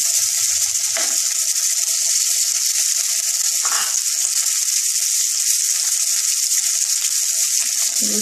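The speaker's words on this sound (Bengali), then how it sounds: "এরপরে পেঁয়াজটা দিয়ে একটু ভাজবো।" Onion frying in a pan: a loud, continuous sizzle close by, with a few short clinks or stirring touches along the way.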